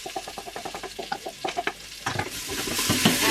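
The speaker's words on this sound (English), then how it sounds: "And then I'm going to add the rest of the onions and the garlic that was in this bowl." Onions and garlic stirred in a pan of olive oil: quick rapid scraping strokes of a spoon up close, then swelling into a louder steady sizzle, no talking.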